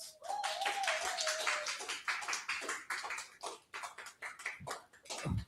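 Applause at the close of a panel's ranking announcement, a dense patter of clapping hands with a faint tone sliding underneath at first, thinning out toward the end, moderately close.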